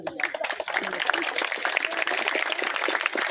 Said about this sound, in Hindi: तालियों की कड़कड़ाहट से उनका इस्तकबाल किया जाए